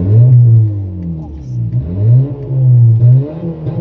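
A stationary Honda Civic Si with the car fully closed revs up and down several times close by, each swell rising and falling in a smooth, throaty wave.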